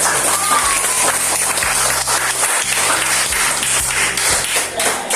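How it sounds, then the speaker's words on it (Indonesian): Classroom applause fills the room, a steady wash of many hands clapping loudly and continuously from start to finish with a few light taps and faint murmurs beneath. "Kita berikan aplaus."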